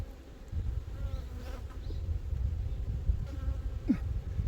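Dense buzzing of honeybees around an opened beehive during a beekeeping hive inspection in Boeun, Chungbuk, a steady swarming drone with occasional closer passing bees, no talk.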